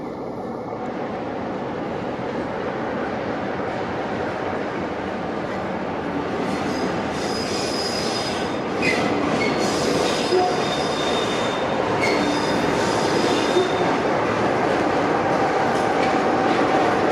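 Steam locomotive 35018 British India Line passes at Carlisle during Storm Babet, wheels squealing loudly over a steady, close rolling rumble and rail clatter that builds slightly toward the end.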